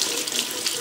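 Water runs steadily from a kitchen tap into a sink, a continuous close hiss with no talking over it.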